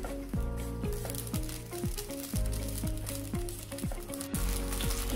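Green chillies and ginger-garlic paste sizzling in hot sunflower oil for a Kerala-style duck egg curry, a steady close crackle broken by repeated metallic scraping and stirring strokes.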